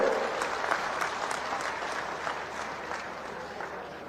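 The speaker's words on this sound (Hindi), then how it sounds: "भजनलाल जी का जोरदार ताली बजाकर स्वागत करें।" An audience applauds to welcome the chief minister at a Mahatma Jyotiba Phule birth anniversary ceremony in Rajasthan. The clapping is dense and sustained and slowly fades, with faint crowd murmur beneath it.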